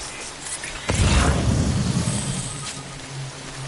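Steady rain hisses in a video game, with a deep rumbling swell like thunder rolling in about a second in, then settling back to a constant downpour.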